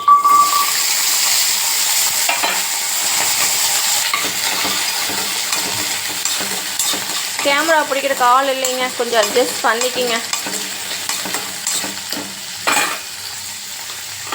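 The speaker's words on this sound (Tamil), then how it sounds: "வெங்காயம் தாளிச்சிக்கலாம்." Small onions fry in two spoons of gingelly oil in a pan for a Tamil fish curry, giving a steady hiss and sizzle with scraping stir strokes throughout, while someone talks briefly over it.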